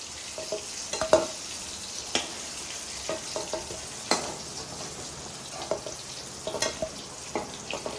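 Vadiyalu, sun-dried urad dal fritters, frying in hot oil in a pan with steady sizzling and intermittent stirring scrapes, close and moderately loud, no voices.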